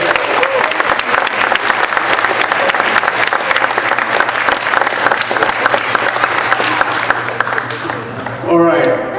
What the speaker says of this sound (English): one more round of big applause